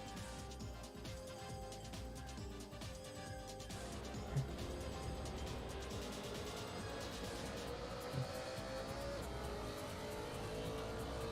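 Yellow race car scything past in Assetto Corsa during an online league race. Faint engine whine rises gradually in pitch over several seconds, with a couple of soft knocks, all fairly quiet and distant.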